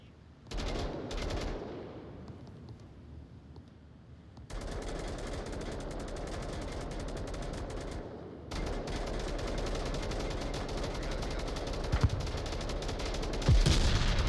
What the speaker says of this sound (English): the C4 there detonated by Murder Colt does catch Jordan.